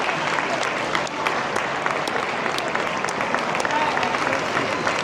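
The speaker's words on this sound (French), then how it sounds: "j'aimerais qu'on ait une bonne main d'applaudissements pour cet excellent travail" Audience at an agricultural hall of fame ceremony in Quebec breaks into steady, full applause, a dense wash of clapping from a sizable crowd lasting the whole stretch.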